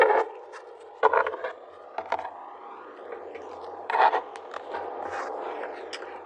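Tarot cards being shuffled and drawn during a reading, close dry riffles and scrapes of card stock sliding together, with a few sharper bursts when cards are pulled, and no voices.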